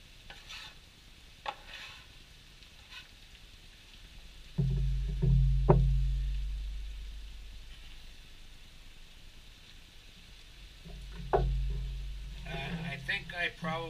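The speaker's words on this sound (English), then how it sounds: "So now the onions are translucent. I'm going to add the ground beef." Ground beef is added to translucent onions frying in a pan, bringing low thuds and a rising sizzle with stirring scrapes. The sound is fairly quiet, and a voice briefly talks over it.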